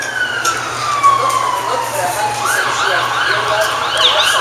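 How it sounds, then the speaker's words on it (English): An emergency siren wails outside, rising and falling as it passes and staying fairly loud throughout, over the murmur and background noise of an indoor business talk. "now I got a siren competing with us"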